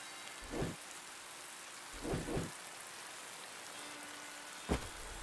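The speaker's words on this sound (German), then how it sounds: "Und es regnet." Steady rain hisses evenly in the video game Dead in Vinland, a constant close wash of falling water broken by three brief, soft low thumps spaced a couple of seconds apart.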